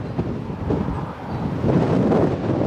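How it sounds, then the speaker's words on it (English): Wind buffets the microphone in a continuous low rumble in the Palm Springs desert, gusting louder toward the end. "It is very windy"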